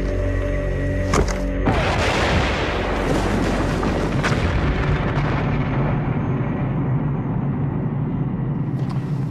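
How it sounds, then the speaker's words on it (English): A World War II Bangalore torpedo detonating in a barbed wire entanglement: a sudden heavy blast erupts after a brief lead-in and rolls into a long, loud rumbling roar that slowly fades with debris noise. "the Bangalore torpedo has blown a channel right through our barbed wire entanglement"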